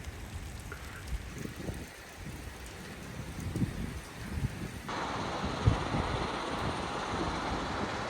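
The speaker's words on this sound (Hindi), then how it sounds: "दोस्तों अब लगी थोड़ा सी बारिश" Rain falling in the mountains of Garhwal, Uttarakhand, a steady hiss of drops on surfaces that grows heavier and denser partway through, with no voices.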